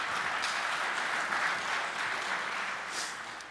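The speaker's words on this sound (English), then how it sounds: "So please give them all a round of applause." Audience at a membership seminar giving a round of applause, a broad continuous wash of clapping from a sizable crowd, steady and even before easing slightly at the close.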